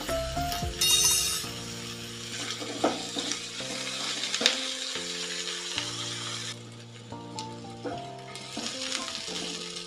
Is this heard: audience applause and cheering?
no